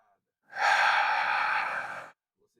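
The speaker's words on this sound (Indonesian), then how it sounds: "Saat kita mengembuskan udara, letakkan tangan di dada dan hembuskan napas secara perlahan." A single slow, breathy exhale during a neck stretch, close and clear, lasting under two seconds in otherwise quiet surroundings.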